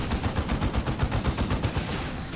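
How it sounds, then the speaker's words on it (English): Artillery strikes in the video game Dawn of War II: a loud, continuous rapid string of explosive impacts pounding in quick succession, dense and close. "Let's go for some artillery strikes."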